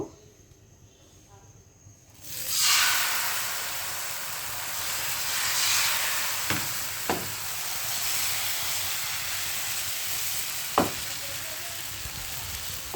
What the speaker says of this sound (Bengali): এইভাবেই আমি পাতলা করে ভেজে নেব।